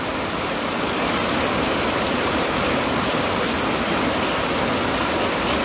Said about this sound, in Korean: 아, 이거 왜 이렇게 비가 와?